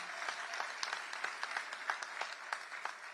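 Crowd applause at a 2023 State of the City address, steady clapping from many hands heard at a distance, fairly faint and even, with no speech over it.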